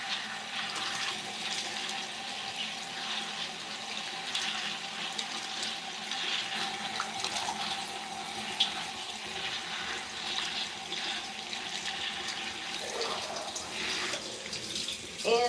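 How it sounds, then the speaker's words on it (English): Tap water runs steadily to rinse conditioner out of hair, a continuous moderately close splashing flow with small shifts as the stream hits hair and skin. "I'm able to get a really good rinse to get all that conditioner out of there."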